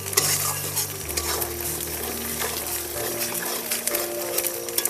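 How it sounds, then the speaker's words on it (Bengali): Ghatkol leaves cooking in a pan over low heat with added water are stirred continuously. Loud, close scraping and stirring run over a steady sizzle, with some faint low hum beneath. "ঠিক এরকমভাবে নাড়াচাড়া করতে হবে।"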